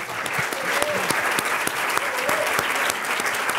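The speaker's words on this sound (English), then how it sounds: "we need to give him a round of applause" A lecture audience applauds steadily throughout, dense clapping from a crowd at a talk, even and sustained with no break.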